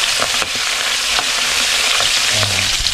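Freshly caught fish frying in a hot pan, a loud, steady, close sizzle with crackling spatter and a brief stirring clatter near the end.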